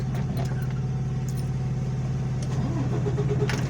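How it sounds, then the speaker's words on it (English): A heavy truck hauling a loaded trailer runs with a low, steady diesel idle, close and continuous, with a slight rise in revs near the end. "Let us start the truck."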